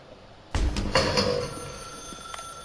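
A telephone in a Stanley Parable mod game rings with a loud, sudden bell burst that decays into a lingering metallic ring, heard alone.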